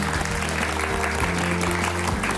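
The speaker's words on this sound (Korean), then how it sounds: "다시 한번 박수 주실까요?" An audience at a talk on household finances applauds the author, sustained, dense clapping from a sizable crowd, steady and fairly loud, with a faint voice beneath it.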